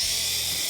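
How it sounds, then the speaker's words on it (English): A power screwdriver whines steadily and loudly up close as it backs out the screws of a deadbolt lock on a door, one brief continuous burst. "We're going to open these two screws."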